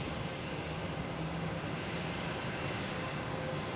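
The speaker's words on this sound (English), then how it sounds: "next taking off, we have Delta heading to San Francisco in an A321neo" A Delta Airbus A321neo airliner takes off at Boston Logan, heard as a steady, distant engine rumble and broadband roar at low level, with no voices over it.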